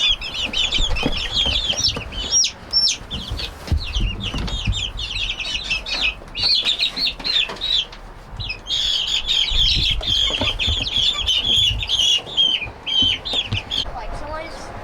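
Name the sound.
chicks clucking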